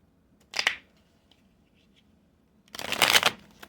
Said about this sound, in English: this is how my daddy taught me to shuffle